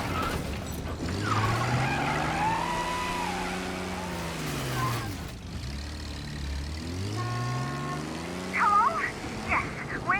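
Reckless car driving in Mafia Definitive Edition: a sustained engine drone with rising and falling revs, close and loud, under game voices talking.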